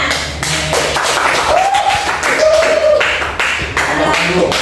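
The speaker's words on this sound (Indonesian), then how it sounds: "Oke, tepuk tangannya." Steady clapping from a group, dense and continuous throughout, loud and close, with a couple of faint voices mixed in.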